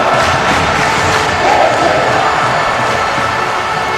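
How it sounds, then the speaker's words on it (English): A wrestling crowd at a hardcore match cheers and roars continuously, a dense, steady wall of voices with a slight swell midway and no pause. "This crowd loving this hardcore matchup."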